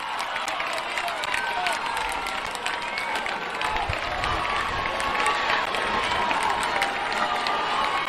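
A crowd cheers and claps steadily at a softball game as Central City fans react to a base hit, a continuous mid-level roar of voices and applause with a faint voice mixed in.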